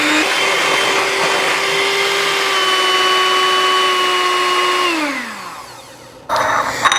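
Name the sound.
electric mixer beating condensed milk and lime juice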